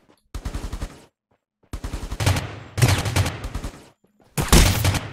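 Rapid bursts of automatic gunfire in the battle-royale game Rules of Survival, four loud volleys separated by short silences, the last one the heaviest.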